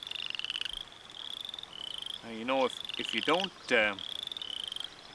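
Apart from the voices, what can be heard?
chorus frog calling in a pond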